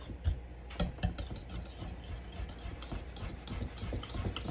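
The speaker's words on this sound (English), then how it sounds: "We're supposed to whisk this together." Whisk stirring a sauce of curry powder and lemon juice in a bowl, a steady close scratchy clatter with a few louder knocks near the start.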